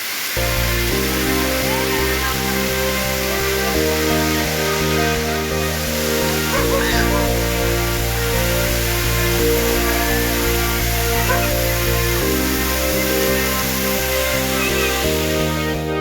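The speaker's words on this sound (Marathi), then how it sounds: "असे छोटे छोटे धबधबे तुम्हाला इथे पाहायला मिळतील आणि त्याच्याखाली भिजण्याचा सुद्धा तुम्ही घेऊ शकता" Small monsoon waterfalls near Dhareshwar pour in a steady, loud, unbroken rush of falling water, with a constant low hum running underneath throughout.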